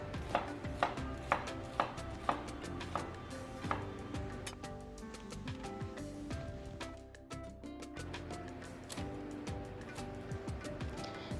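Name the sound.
knife chopping onion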